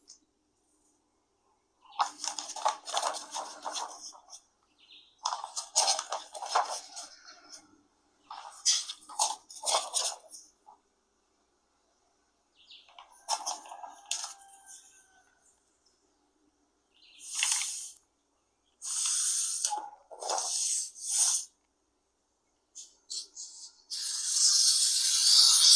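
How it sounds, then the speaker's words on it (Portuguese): A utility knife cutting wallpaper: a series of separate rasping, scraping strokes in short bursts with quiet gaps between them, close by and fairly loud. "O corte a gente geralmente faz com um estilete, para ficar um acabamento reto"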